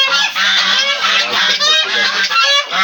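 Farm ducks and geese honk continuously in a dense, loud overlapping chorus close by, with no pauses and no voices.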